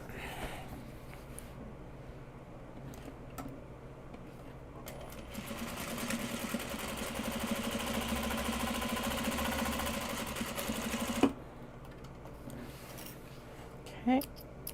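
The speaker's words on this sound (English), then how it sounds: "sew the two ends together" A sewing machine stitches two fabric ends together, running steadily for about six seconds at a loud, even buzz between quieter stretches of fabric handling and clicks.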